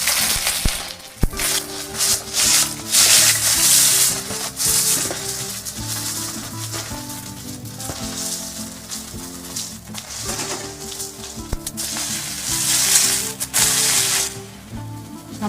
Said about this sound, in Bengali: প্রথমে বেগুনগুলো ভেজে নেব।